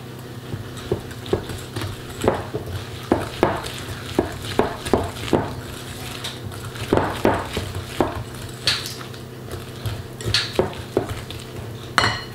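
A whisk or spoon stirs egg, sugar and almond powder together in a bowl for an almond tart, giving a run of repeated clinks and scrapes against the bowl at an uneven rhythm, close and fairly quiet, with no talking.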